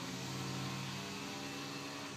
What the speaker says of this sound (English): Are they really about to cut bushes and grass while I'm trying to make a YouTube video?